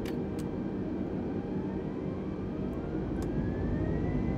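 Twin airplane engines in Microsoft Flight Simulator 2020 throttle up into a steady, loud rumbling roar, with a faint whine rising in pitch and a few sharp clicks near the start.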